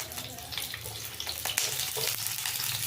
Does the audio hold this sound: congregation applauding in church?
no